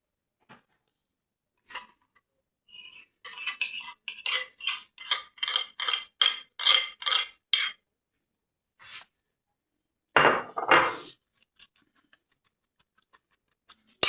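A metal spoon stirs creamy coleslaw in a Chinese-style dish, making a quick run of rhythmic clinks and scrapes at close range with no talking, then a few scattered knocks and one louder scrape near the end.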